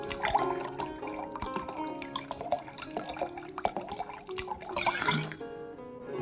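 Wine is poured in the video game Card Shark as a busy, dripping, splashing flow that runs under background music for about five seconds, then stops, leaving only the tune.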